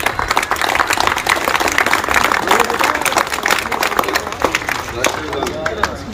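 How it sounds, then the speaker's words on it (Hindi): Crowd of students and staff clapping together at an Independence Day school function, a dense, steady wash of many hands close by with some chatter mixed in, tapering slightly toward the end. "ताली मारोगे एक बार सब"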